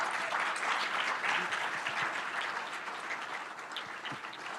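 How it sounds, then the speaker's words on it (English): An audience at a corporate kickoff event applauds continuously, a steady wash of many hands clapping at moderate distance that eases off slightly toward the end. "Round of applause, please."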